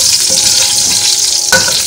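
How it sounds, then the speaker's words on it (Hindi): Green chillies, with crushed red chilli, sizzling and frying in hot oil in a pan, a steady close crackle with a brief louder stir or splash partway through, no talking. "ये 2 हरी मिर्च है, इनको बस हल्का सा सौते करूँगी मिर्चों को"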